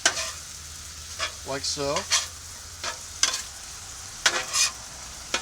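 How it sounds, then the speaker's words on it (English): Onions and ground beef sizzle on a Blackstone griddle while a spatula scrapes and chops through them in several sharp strokes, with a brief voice heard between the scrapes. "you mix the onions and the ground beef together first"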